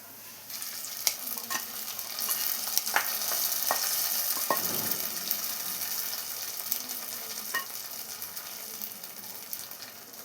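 Fried spice tempering is stirred into cooked tapioca simmered in coconut milk, Kerala style. A soft, continuous sizzle runs throughout, broken by scattered clicks and scrapes of the spoon against the pan.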